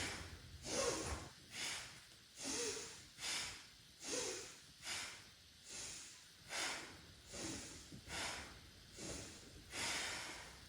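Deep rhythmic yoga breaths during a vitality flow, about ten even inhale-exhale cycles with a soft airy hiss, close and quiet, no talking.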